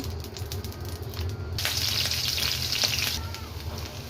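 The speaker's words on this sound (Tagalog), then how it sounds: "Lagyan ng mantika ang kawali, painitin ito. Ilagay ang talong." Eggplant pieces hit hot oil in a frying pan, bursting into a loud, steady sizzle partway through that hisses continuously to the end, with a low background hum underneath.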